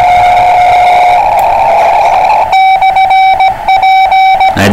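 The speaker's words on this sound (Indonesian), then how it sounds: "Nah itu Morse nih sebelah sini" Morse code CW tones on an amateur radio band beep loudly in rapid on-off keyed bursts after a steady tone, with static hiss between the dits and dahs.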